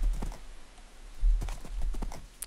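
Irregular hoof clops from a horse in a video game, fairly close, with a few sharp knocks against a low background rumble.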